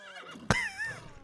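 A horse in The Sims 3 gives a short, sharp neigh followed by a wavering whinny, close and fairly quiet against a soft background.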